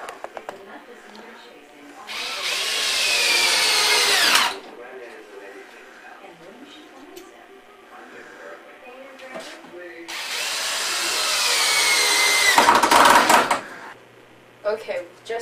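A power drill drives screws into a window framework: two long, loud whirring runs of a few seconds each, separated by quieter handling noises, with speech in between.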